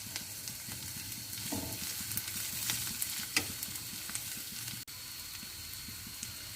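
Onions fry in oil with ginger garlic paste for a chicken liver gravy, producing a steady close sizzle with soft stirring scrapes and a brief knock partway through.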